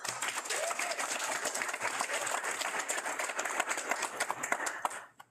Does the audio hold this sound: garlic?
no